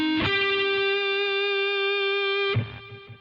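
Sustained distorted electric guitar note with a rich stack of harmonics, struck sharply at the start and held for over two seconds before a second pick attack, played in a neoclassical style.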